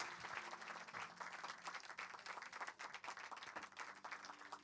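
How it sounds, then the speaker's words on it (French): An audience applauds two composers at a music event, a continuous wash of clapping across the whole stretch, quite faint and distant in level. "On peut les applaudir."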